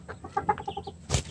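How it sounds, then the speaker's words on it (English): A short burst of clucking calls from an Island Red rooster, fairly close, ending in a sharp noisy squawk. "That's the rooster."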